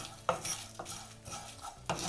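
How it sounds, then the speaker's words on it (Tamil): A spoon scrapes and stirs coconut masala roasting in a pan over a slow flame, producing soft, irregular scraping strokes and a faint sizzle, close and quiet. "இப்போ இதை வந்து நம்ம ஒரு 3-4 நிமிஷம் வரைக்கும் ஸ்லோ ஃப்ளேமில் வச்சு நல்லா வறுத்தாச்சு."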